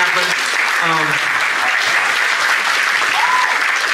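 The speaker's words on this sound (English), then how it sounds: "can we just give them a round of applause and thank you for making the street fair happen?" A crowd applauds the team behind a street fair, steady dense clapping throughout, with a few brief voices rising over it near the start.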